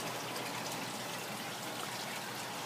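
Water trickles steadily through a drip-line hydroponic greenhouse system fed from a buried 20-gallon tank, with a soft continuous wash and no talk.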